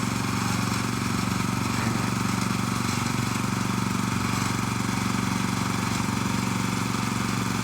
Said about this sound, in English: I'll turn the air compressor off.